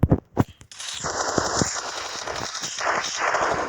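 Gunfire in a team-based video game: a few separate shots open, then a sustained rapid burst of automatic fire runs on, crackling and fairly loud.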